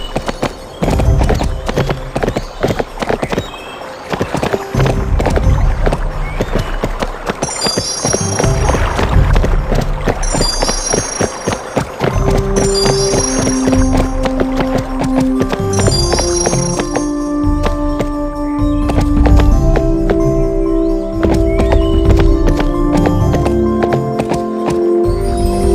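Horse hooves clip-clop steadily in the PlayStation 2 game Barbie Horse Adventures: Wild Horse Rescue, the rhythmic hoofbeats running over bright game music with chimes, and a whinny appearing briefly.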